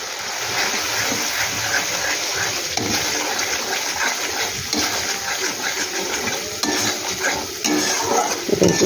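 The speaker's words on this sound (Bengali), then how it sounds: "এটা একটু ভালো করে কষিয়ে নিব আমি।" Ground spices and kasuri methi sizzle and fry in hot oil in a pan for kofta curry, a steady dense crackle with stirring scrapes throughout, close and fairly loud.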